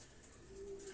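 A single pigeon coos faintly, a soft low tone heard alone against quiet background ambience.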